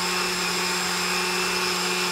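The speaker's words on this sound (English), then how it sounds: "We want a nice, fine, wet grind, but obviously we want the blender to keep going and not get bogged down." A blender grinds wheat berries into a fine wet mix, a loud, constant whining motor drone that runs unbroken with no voices over it.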